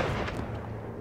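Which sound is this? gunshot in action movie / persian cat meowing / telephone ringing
gunshot in action movie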